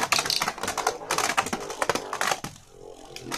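Beyblade Burst Turbo spinning tops are launched and clash in a stadium, giving sharp rapid clicks and scraping rattles that come in dense bursts before thinning into quieter whirring.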